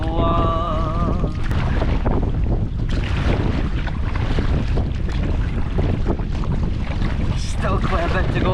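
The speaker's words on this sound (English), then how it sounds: "Going against the wind, against the waves." Strong wind buffets the microphone continuously while waves slosh and splash around a kayak paddling against the wind on open water in the Scottish Highlands; a voice briefly sings over the steady roar.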